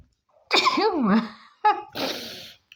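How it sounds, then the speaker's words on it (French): A single loud human sneeze with a sharp intake and burst, followed by a short breathy after-sound. "attention, je vais éternuer"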